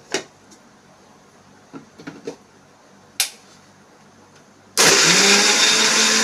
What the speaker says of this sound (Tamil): பச்சரிசி, துவரம் பருப்பு, கொஞ்சம் தேங்காய், இஞ்சி, பச்சை மிளகா, சின்ன வெங்காயம், பச்சையாக சின்ன வெங்காயம் எல்லாம் சேர்த்து அரைச்சிட்டு